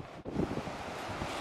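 Strong wind in Sardinia buffets the microphone with a constant rough roar, dipping briefly near the start.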